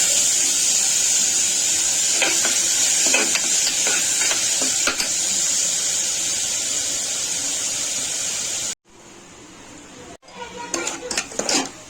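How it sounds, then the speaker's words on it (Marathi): Chopped onion sautés in a pan with a continuous bright sizzle and intermittent spatula scrapes and clinks. The sizzle cuts off abruptly, and quieter stirring and clattering follow. "कांदा गुलाबी होईपर्यंत आपण परतून देणार आहोत"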